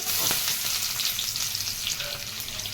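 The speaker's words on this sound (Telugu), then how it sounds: "ఈ ఉల్లిపాయలు దోరగా వేసుకోవాలి" Thinly sliced onions and curry leaves fry in hot oil for a curry, giving a steady, close sizzle with light crackle throughout and no voices.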